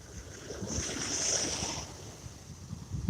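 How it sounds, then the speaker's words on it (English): Rough ocean waves at a Florida beach roll in as a continuous broad wash, with wind buffeting the microphone and a swell of surf in the middle. "But man, those waves are rough."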